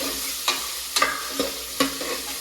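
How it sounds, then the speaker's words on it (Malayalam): A spoon scrapes through Kerala-style chicken curry frying in a pan, making four evenly spaced stirring strokes close by over a constant soft sizzle, with no talking. "ഇളക്കി കൊടുക്കാം"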